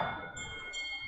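Wind chimes on a porch ring softly on a breezy, mild outdoor day, with faint sustained high metallic tones lingering briefly.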